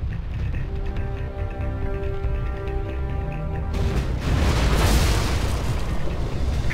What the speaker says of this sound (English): Offshore artillery.